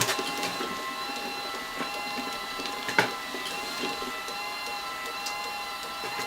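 A LAB500 automatic labeling machine runs with a steady mechanical whir and faint tonal hum, broken by light rhythmic clicks and a sharper clack near the middle.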